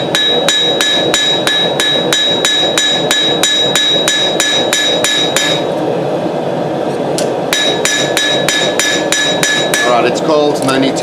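Sharp, rhythmic hammer blows ring out close by as a hot knife blade is forged on an anvil, a steady run of strikes with a short pause partway before the pounding resumes, ending in quicker, lighter taps.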